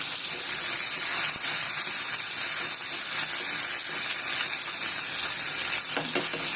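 Coriander, curry leaves and green chillies crackling in hot oil for a dal tempering, a steady close sizzle with fine spitting hiss throughout, no voices.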